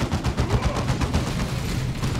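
Loud, continuous gunfire from a Dawn of War 2 battle, rapid overlapping shots in a steady, dense stream with no pause.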